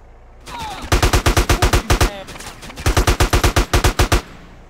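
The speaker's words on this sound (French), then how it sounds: "Qui me tire dessus ? Qui ose ?" Rapid automatic gunfire in GTA San Andreas rattles out in two long, loud bursts of evenly spaced shots close by, separated by a brief pause.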